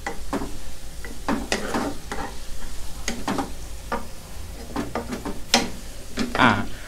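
Garlic stir-fried in a pan for mala pork belly, sizzling steadily while a utensil scrapes and stirs in irregular bursts, close up, with no talk.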